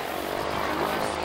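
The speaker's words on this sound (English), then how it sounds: "There's the airplane." A steady, broadband engine drone of a propeller plane overhead at an air show in Estherville, Iowa, continuous and fairly loud for the whole moment, with no voices.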